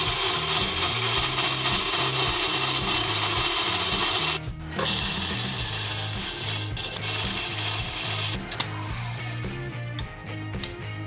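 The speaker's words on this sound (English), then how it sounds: "as I hollow it, shavings will start to come out through the bine." A Merlin2 power carver hollows out a wooden piece on a lathe, giving a continuous loud grinding rasp with a rhythmic low thrum, with a brief break midway before cutting resumes.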